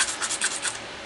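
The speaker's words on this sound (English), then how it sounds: "I just like using the sandpaper because I have a lot of control over it." Sandpaper rubs excess resin from the edge of a studio-scale Y-Wing resin model kit part. Five or six quick, close, rhythmic scratchy strokes are followed by a softer tail, with no voices.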